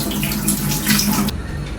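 Meat soaked in vinegar is rinsed under running water in a kitchen sink, a close, steady splashing and trickling stream that cuts off sharply near the end.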